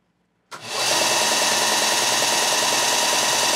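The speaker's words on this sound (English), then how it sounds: "I'm gonna click the unit on just to make sure that that belt is not sliding back and forth" A Ryobi belt and disc sander switches on abruptly and settles into a loud, steady whirring drone with a gritty, broadband hiss, running continuously up close.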